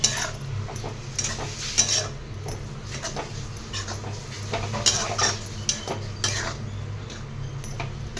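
Dried fish is stirred and sautéed in a pan, with a low sizzle under frequent metal spoon scrapes and clinks against the pan, close and fairly quiet, with a dog whimpering faintly in the background.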